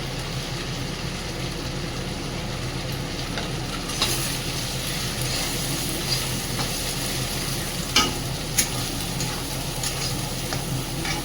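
Spiced cabbage and peas fry in a pan, giving a steady loud sizzle with scraping stirs and a few sharp knocks of the spoon against the pan.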